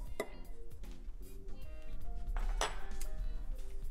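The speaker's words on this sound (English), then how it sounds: "I'm going to give this a quick mix together" Dry ingredients for a carrot cake, flour with cinnamon, are quickly mixed in a bowl, giving soft, scattered clinks and scrapes of a utensil against the dish, close and fairly quiet, with no talking.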